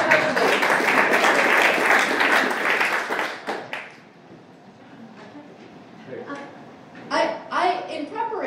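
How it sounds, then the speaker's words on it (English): A crowd at an environmental forum at SUNY Adirondack in Queensbury, New York claps loudly for several seconds, then the applause dies away and a person begins speaking. "Why don't you all just give yourselves a round of applause again?"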